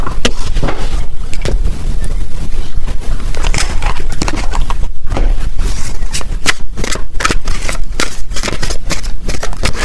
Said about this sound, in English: Let me get a few more tarot cards here.